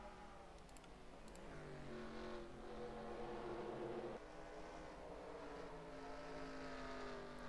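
Race trucks in NASCAR Racing 2003 Pennzoil Truck Series at Old Spice 200 roar off the final corner, a pack of droning engines with steady harmonic whine and shifting pitch, continuous and fairly close.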